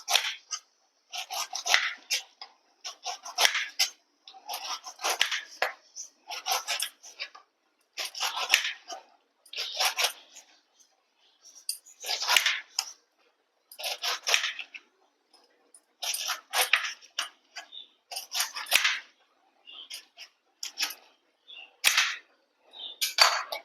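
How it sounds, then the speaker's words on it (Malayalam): A knife slicing a pineapple into thin round slices, heard as a long series of crisp, close cuts coming in short bursts with pauses between them. "നമുക്ക് റൗണ്ടിൽ കട്ട് ചെയ്തെടുക്കാം"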